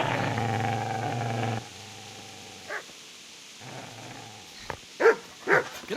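A dog in the medieval video game Kingdom Come: Deliverance snarls and growls low under a rumbling background, then lets out several short, loud barks near the end.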